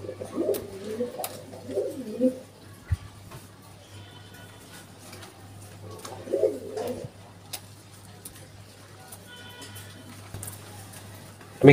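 Pigeons coo in a pigeon loft in two soft, rolling bouts several seconds apart, with scattered faint clicks and a steady low hum filling the gaps.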